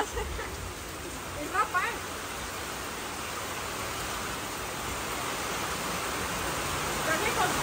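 Heavy rain pours steadily during an outdoor lunch, a dense continuous hiss close by, with people talking briefly over it.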